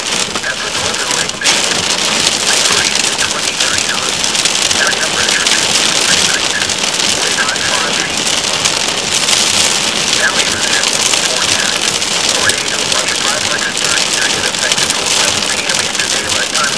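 Heavy rain with hail pelting down in a supercell storm near Athens, Michigan, with sustained wind; a loud, dense, continuous hiss and clatter of dime- to nickel-size hailstones, with someone talking under it.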